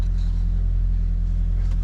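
Car engine idling just after an oil change, a steady low rumble that holds even and unbroken at close range with no voices over it.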